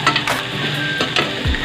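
Corn and pasta shells being stirred in a pan, a brief run of scraping and sizzling strokes, close and fairly loud, with no voices.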